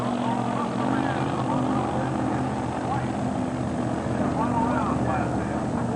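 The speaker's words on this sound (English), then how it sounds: "Next pair doing their burnouts." Sportsman drag cars doing burnouts at the 1997 NHRA Pennzoil Nationals: a steady, loud engine roar that continues without break under a voice talking, with wind-like rumble mixed in.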